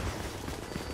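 Gunfire in the Dark Zone of The Division, a dense, steady rattle of shots heard at a distance, filling the short moment without any voices.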